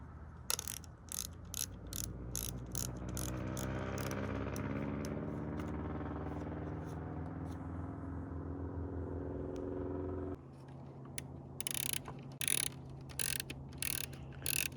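Boa dial fit system on an Oakley Mod1 snowboard and ski helmet, tightening its cables with a rapid run of sharp ratcheting clicks close up, over a steady low rumble, then a few separate clicks near the end.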